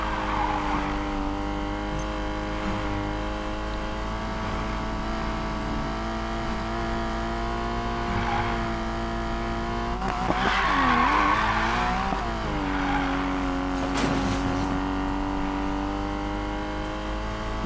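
Race car engines drone steadily in Need for Speed: Payback, with a loud rising rev and tire squeal around the middle and another brief screech later, all without talk.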